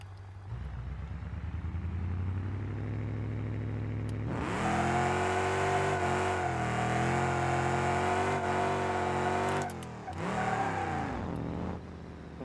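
Car engine in BeamNG.drive revving hard during a failed second-gear burnout, starting low then jumping into a loud, sustained high-pitched wail with fluttering pitch, briefly dropping before surging again, no talk.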